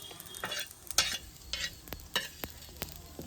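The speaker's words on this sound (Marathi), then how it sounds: "आणि आता हे खोबरं आणि धने भाजणं चालू आहे" Grated coconut and coriander seeds dry-roasting on a black pan over a village wood-fired stove, with soft sizzling and sharp, irregular scraping stirs of a spatula, close up and without talk.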